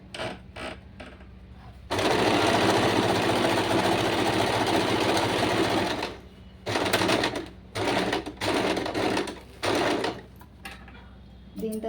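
A sewing machine stitches in loud, dense bursts, one long steady run followed by several shorter start-stop runs separated by brief pauses.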